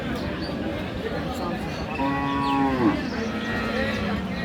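A cow moos once, a drawn-out low call at mid distance amid the murmur of a busy cattle market with Friesian cows for sale, people chattering around it.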